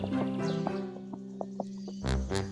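Light, quick hoof taps from a small cartoon goat climbing a stone bridge click out an uneven rhythm over sustained background music.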